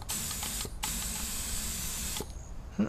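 A spray gun gives several hissing bursts of spray, a short one and then a long steady one, with brief pauses between and a small click at the end.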